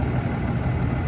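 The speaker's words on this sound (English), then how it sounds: "Cummins engine, you can hear it, it's purring." A Cummins diesel idles in a 2016 Federal Coach 40-passenger bus on a Freightliner chassis, giving a brief, steady, low rumbling drone heard close with no talking.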